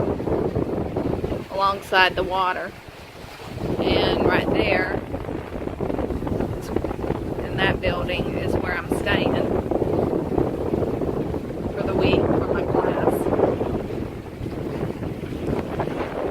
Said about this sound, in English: And it's still very windy, but it feels so good out here.